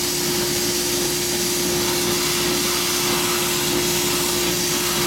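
An air compressor feeding a sand bead blaster runs continuously, a loud, steady droning hum with a strong constant tone, heard alone at close range.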